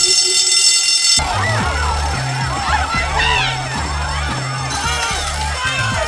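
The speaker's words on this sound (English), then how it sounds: "He's gonna get desperate to pull the fire alarm." A fire alarm blares in a TV cartoon episode, a loud continuous electronic tone over crowd noise and rhythmic pulsing, with voices talking throughout.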